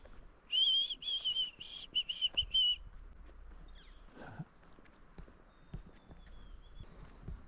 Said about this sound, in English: you can hear the birds are going nuts